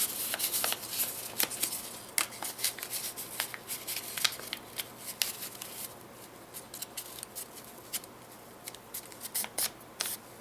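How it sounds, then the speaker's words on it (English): Paper being folded into an origami crane gives off soft close crinkles, crisp creasing snaps and rustles in an irregular rhythm, with busy handling early that thins into sparse taps and crackles. "push the neck up in, fold it back in, and pinch these two together again"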